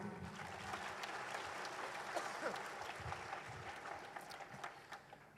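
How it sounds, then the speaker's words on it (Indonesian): An audience applauds at a musical drama performance in Bandung, steady moderate clapping filling the room and tapering slightly toward the end, with faint voices underneath. "Jadi saya ingin minta tepuk tangan untuk Anda semua yang telah hadir di sini."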